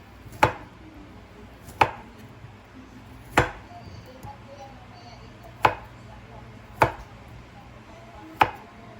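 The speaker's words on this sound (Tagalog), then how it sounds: "na-slice na natin yung ating potato and carrots" A knife slices potato and carrots on a cutting surface for potato salad, six sharp, distinct cuts spaced at uneven intervals over a low steady background hum, with no talking.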